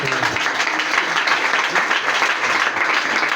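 A church congregation applauding during a deliverance service, steady dense clapping from many hands filling the room evenly, loud and continuous without pause.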